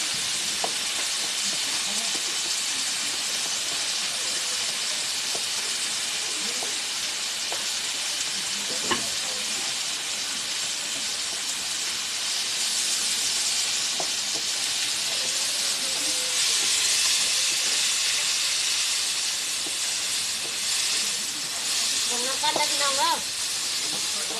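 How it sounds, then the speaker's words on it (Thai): Garlic fries in hot oil in a pan, a steady loud hiss and crackling sizzle that runs continuously, with occasional stirring clinks and a voice talking over it. "กำลังเจียวกระเทียมพี่น้อง เอากระเทียมลงเลยพี่น้อง"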